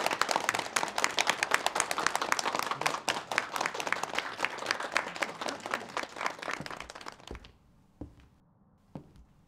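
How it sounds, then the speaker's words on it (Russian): Audience applause opening an official ideological re-education course for Christians in a staged hall, loud and dense clapping for about seven seconds that cuts off sharply, followed by a few isolated knocks or claps in near silence. "Ваши аплодисменты."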